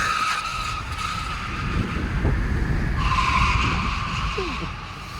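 A Ford F-150 Lightning electric pickup launches hard from a standstill, a rising motor whine over tire noise and road rumble, loud and close.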